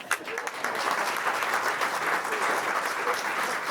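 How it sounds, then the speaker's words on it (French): An audience at an improv show applauds Sylviane, a dense, steady clapping that swells in after a brief opening and holds evenly, with only a faint voice at the start. "Bravo, on peut applaudir Sylviane."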